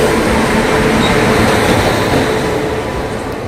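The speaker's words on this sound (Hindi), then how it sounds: "हमारी ट्रेन ने एक्सेलरेट करना बहुत तेज़ी से शुरू कर दिया" A Humsafar Express train picking up speed, heard from on board as a loud, steady rumble and roar that carries on without a break.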